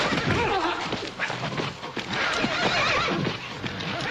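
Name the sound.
white horse neighing and hooves clip-clopping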